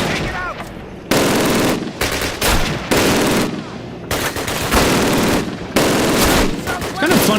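Rapid bursts of automatic gunfire from the video game Call of Duty, loud and close, firing in repeated volleys separated by brief pauses.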